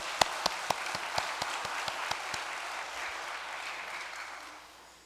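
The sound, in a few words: congregation applause in church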